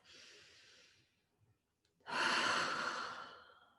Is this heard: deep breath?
yes